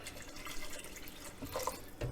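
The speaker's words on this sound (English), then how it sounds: "So we're going to add some more water to that." Water poured from a tap or jug into a thick meatball stew in a home kitchen, a soft continuous splashing trickle with a few brighter drips near the end, fairly quiet and with no talking.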